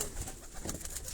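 Pigeons at a breeders' loft in Havelian, Hazara, cooing softly over steady low background noise, with no talking.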